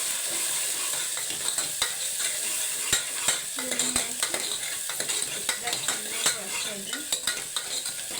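Ghee sizzles and crackles steadily in a hot pan for menthi bath, with scattered spoon scrapes and clinks over a continuous frying hiss; no voices.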